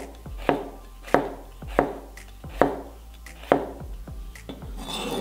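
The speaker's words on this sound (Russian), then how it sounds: "Нарезаем перчик тонко." A knife thinly slices a crisp bell pepper on a board, a series of sharp, evenly spaced chops close to the mic.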